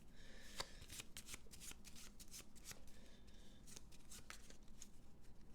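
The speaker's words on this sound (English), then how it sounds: "Shuffle the quorum deck." Cards from the quorum deck of the Battlestar Galactica board game are shuffled by hand in a quiet room, producing a soft run of rapid riffling flutters and crisp snaps close to the listener.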